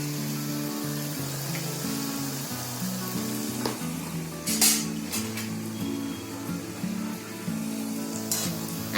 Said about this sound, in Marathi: आपल्या कढईमध्ये जसं तेल असेल ना आणि जशी जागा असेल ना तसे सोडायचे वडे.